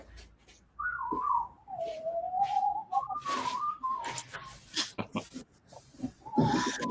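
A pet bird whistles in sliding, wavering notes, fairly close and clear, with short breaks and some clicks and rustles in between.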